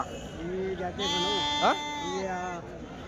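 Sheep and young rams bleat at a Tuesday livestock market in Kadiri, several loud wavering calls overlapping one another up close amid crowd noise.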